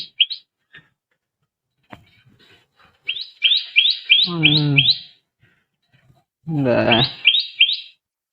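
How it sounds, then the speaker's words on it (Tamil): Outdoor birds chirping: bursts of quick, high repeated tweets alternate with a couple of lower, richer calls, with quiet gaps between them and no talk. "இங்கே பறவை சவுண்டெல்லாம் ரொம்ப இதாக இருக்குது"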